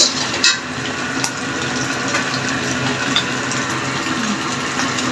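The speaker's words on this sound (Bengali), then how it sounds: "চুলাটা প্রচুর সাউন্ড করে" A cooking stove roars loudly and steadily while fish curry with stems cooks, a continuous broad rushing noise with a brief thump near the start and no voices.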